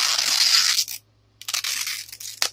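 The tear strip on a toy package is ripped open, with a loud close tearing burst, a short pause, then a second tearing pull and a final quick rip.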